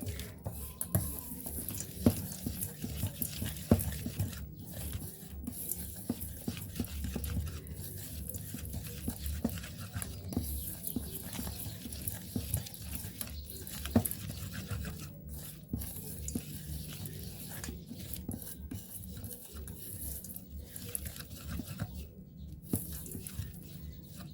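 Homemade washing powder ingredients with caustic are stirred together by hand, a faint continuous scraping and rasping with small irregular taps that runs steadily for a long stretch without talk.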